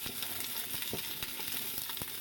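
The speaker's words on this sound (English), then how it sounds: "You hear that sizzle? That is what you want." Close, steady sizzling of vegetables in a hot pan, a bright crackling hiss with small intermittent pops.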